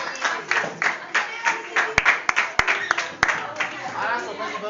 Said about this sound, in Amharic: አጨብጭቡ ለሁሉ